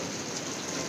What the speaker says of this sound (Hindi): आखिर बारिश हो गई अच्छी तरीके से